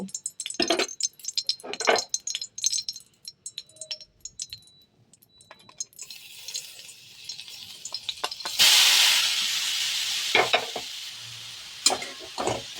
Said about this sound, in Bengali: সুন্দর করে ঘিয়ে ভাজবো।